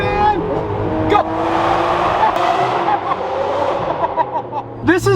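A Nissan GT-R R35 accelerates hard with a loud, rising engine roar and a brief tire squeal, filling the whole stretch while a voice speaks over it.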